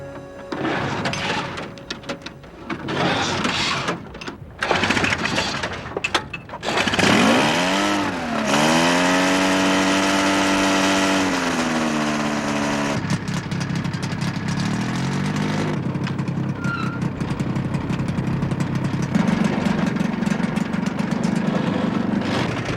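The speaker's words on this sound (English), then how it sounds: "They're powered by a 46-horsepower 2-stroke engine, originally designed for a snowmobile." Drifter ultralight plane powered by a 46-horsepower two-stroke snowmobile engine, buzzing loudly and continuously, its pitch rising and sweeping as it revs before settling into a steady drone, in a desert on the Skeleton Coast.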